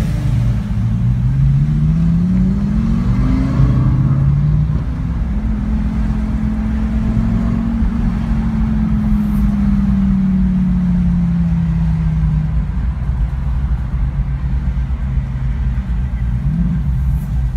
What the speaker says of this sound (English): I'll just be quiet so you can listen to that twin turbo goodness.